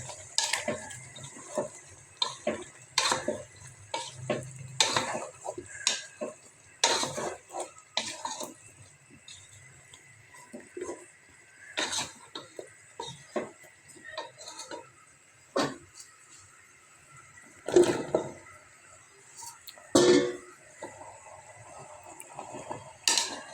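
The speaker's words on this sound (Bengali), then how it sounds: "এখন ভালোভাবে নাড়াচাড়া দিয়া কতটা ঘুরে দিলাম" A spoon stirs bottle gourd and chicken curry in a metal pot, making irregular clanks and scrapes against the sides at close range with quiet gaps between the strokes.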